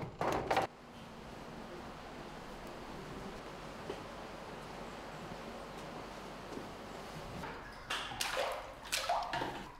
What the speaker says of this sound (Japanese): 紫蘇と水を混ぜ合わせますが、このネバネバした練りを加えることでより均一に混ぜることができます。